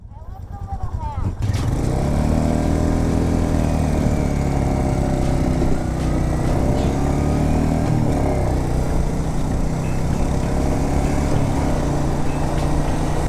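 A Royal Enfield Meteor 350 motorcycle starts off and rides steadily, its single-cylinder engine droning loud and close with rising and falling revs, with a voice talking over it.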